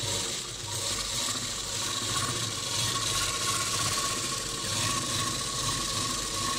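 A sewing machine stitches piping onto a sleeve, running steadily with a quiet, continuous mechanical whirr and rapid clicking throughout, no voices.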